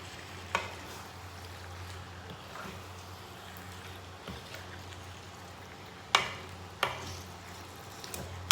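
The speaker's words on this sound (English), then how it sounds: "So the prawns are in now. So just give them a good stir." Prawns being stirred in a pot for biryani, with faint, sparse scraping and knocks of the spoon against the pot over a low kitchen background.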